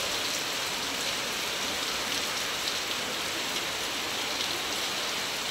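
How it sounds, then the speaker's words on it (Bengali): Heavy rain pours outside in a continuous, loud, even hiss with no pauses, alone and without voices. "আর বাইরে প্রচণ্ড বৃষ্টি"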